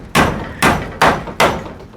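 Four evenly spaced, sharp hammer blows drive nails during a home kitchen extension, each strike loud and close with a short ringing decay, no voices.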